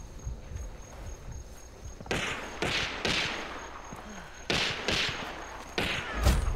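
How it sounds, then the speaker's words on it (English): Gunfire in the video game Hunt: a few distant, muffled shots at irregular intervals, each a broad burst with a short tail, over a steady ambient hum with insect-like chirping. "well, I'm getting shot at."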